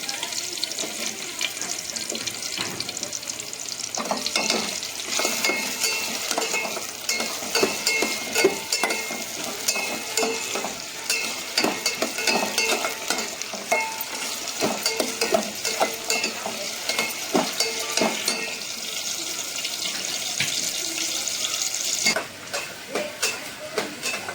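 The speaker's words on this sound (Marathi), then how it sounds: "तर आपला कांदा हा व्यवस्थित भाजतोय." Onion sizzles as it fries in a pan, with a steady hiss under repeated scraping strokes of the spoon stirring it, close by and with no talking.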